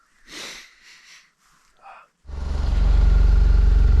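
Motorcycle engines struggle to start in freezing cold with thickened oil, sputtering briefly before one catches and settles into a loud, steady close-up idle with a pulsing rhythm.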